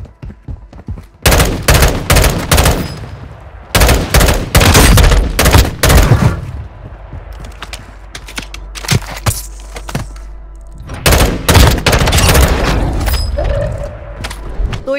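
Loud gunfire in the mobile shooter Warzone Mobile: rapid automatic bursts in clusters separated by short pauses, with a low thudding rumble between volleys and a faint voice in the background.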